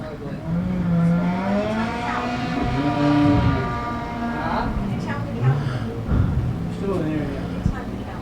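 A race car rolls around Claremont Motorsports Park on a victory lap, its engine and tires audible beneath a loud announcer commentating over the top, the car noise rising and falling as it passes.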